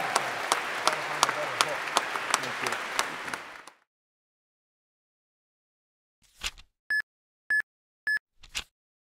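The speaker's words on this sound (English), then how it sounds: "one more round of applause for David Axelrod," Audience applause after a talk at a university politics institute event on the 2014 midterm elections: steady, dense clapping for several seconds that stops abruptly, followed by silence and a few brief isolated sounds.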